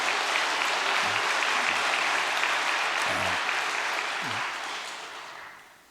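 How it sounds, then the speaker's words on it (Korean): An audience at a Korean church gathering gives a warm round of applause of encouragement to Japanese members, a broad, even wash of clapping that holds steady and then fades out over the last second. "격려와 사랑의 박수를 다시 한번 보내십시다"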